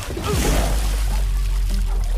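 Whisky poured onto a fire in a movie scene makes a short, loud splashing pour over a low rumble.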